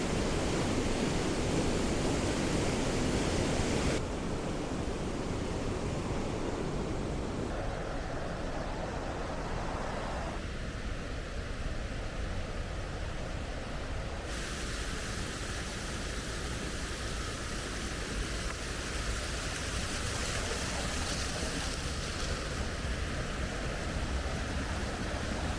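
Baxenghyll Gorge waterfall at Ingleton, a steady broadband rush of falling water carved through a rock gorge, constant and fairly distant, shifting in tone as the listener moves, with no voices.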